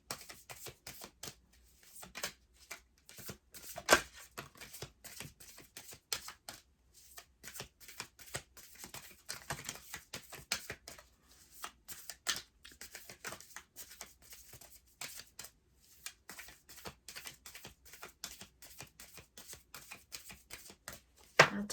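Tarot cards are shuffled in quick, crisp riffles and taps, close and fairly quiet, continuing steadily with brief pauses and no talking.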